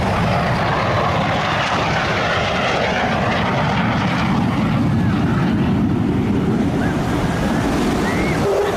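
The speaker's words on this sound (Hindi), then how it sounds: "अमेरिकी विमान से ईरान पर नजर रखी जा रही है और आसमान में, ईरान के आसमान के पास ये विमान साफ तौर पर देखे जा रहे हैं।" American military aircraft flying near Iranian airspace, a loud, steady broadband engine roar with a propeller-like rumble that holds continuously, close and unbroken, with no voices.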